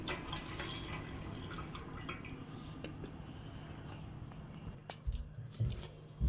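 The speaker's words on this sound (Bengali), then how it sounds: "তো পানি দিয়ে বোতলটা আমি ঝাঁকে দিয়ে দিচ্ছি।" Water sloshes and drips as a bottle is shaken to rinse it, a steady wet rattling that turns into a few louder splashes near the end.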